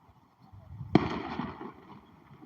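A single Fourth of July firework bursts outdoors in Juneau, Alaska with a sharp, fairly distant bang, followed by a brief rumbling tail over quiet background murmur.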